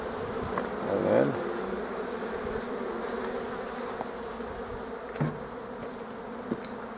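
Honeybees buzz steadily around hives at an apiary on a March day, a dense continuous drone with a louder swell as a bee passes close near the start and a few brief knocks.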